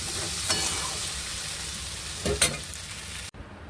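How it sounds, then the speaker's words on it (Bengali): Okra and potato curry cooking in a pan, a soft steady sizzle with a few brief stirring scrapes, fairly quiet and without voices, ending abruptly. "ঢ্যাঁড়স আলুর ঝালটা এবারে বসিয়ে দিয়েছি"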